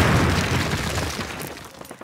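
A grenade detonates in a Call of Duty boot camp: a loud, close blast whose rumbling, debris-laden roar gradually fades over about two seconds.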